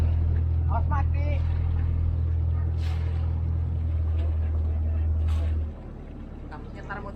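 A boat engine drones low and steady as the vessel is maneuvered out of a dock at low tide near Canti harbor, with voices talking over it before the engine note drops away near the end.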